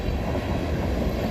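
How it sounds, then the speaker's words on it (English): A locomotive-drawn train rumbles past the historic old town station in Wickenburg, Arizona, as a steady, loud, continuous roar with no voices. "It always adds a little bit of something when the train's going by"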